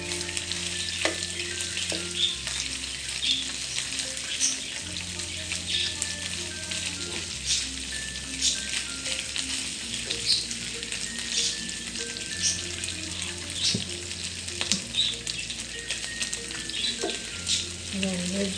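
Pork for adobo frying in a pan, a loud continuous sizzle with intermittent stirring clicks and scrapes, background music faintly underneath.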